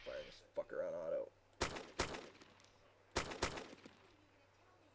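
Bursts of AK rifle fire in the PC game Arma 2, two clusters of sharp, loud shots separated by a pause, with a voice speaking just before the shooting starts.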